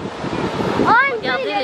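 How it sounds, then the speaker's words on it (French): Ocean waves breaking on the beach at Nazaré in Portugal, a brief rushing surf wash under wind buffeting the microphone, with a sharp whistle rising over it near the end. "Regardez les vagues, c'est pour ça qu'on peut pas se baigner ici."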